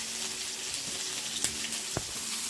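Spices such as panch phoron and bay leaf fry in oil for a fish dish, giving a steady broadband sizzle with a couple of brief clinks or splashes. No voices are heard.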